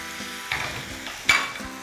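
Spanish chocolate-basket batter, three spoonfuls of the blended mix, sizzles softly in a lightly oiled frying pan on minimum heat, with a couple of brief louder crackles and light utensil contact against the pan.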